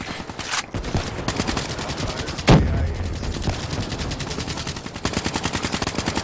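Dense automatic gunfire in the video game Call of Duty Black Ops 3, rapid rattling bursts running nearly throughout, with a loud blast near the middle and renewed heavy firing toward the end.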